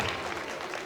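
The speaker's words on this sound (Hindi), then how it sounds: "let's give it up for जितने भी बच्चों ने यहाँ परफॉर्म किया, जोरदार तालियां" An audience applauding after children's performances at a public gathering, a steady wash of clapping with faint voices mixed in for under a second.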